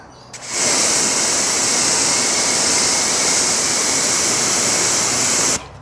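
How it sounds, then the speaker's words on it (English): Steady, loud hiss of water spraying from a hose as a car coated with C-Quartz Lite ceramic coating is rinsed off, starting abruptly and running unbroken for about five seconds before cutting off. "let me go ahead and finish rinsing this off"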